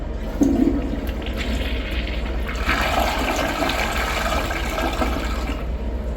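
A Gerber Maxwell SE toilet flushes with a close, rushing swirl of water. It builds after a clunk of the handle and settles into steady draining and refilling, with no talk.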